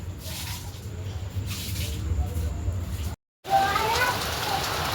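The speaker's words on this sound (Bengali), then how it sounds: "আর বাইরে হচ্ছে বৃষ্টি" Steady broadband rain hiss from a sudden storm outside a home, constant and fairly close, with a brief dropout partway through before the downpour resumes slightly brighter.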